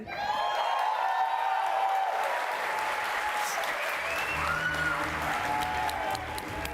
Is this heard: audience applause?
yes